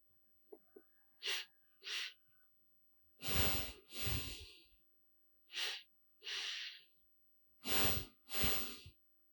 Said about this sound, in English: We're just doing a double breath instead of a single breath.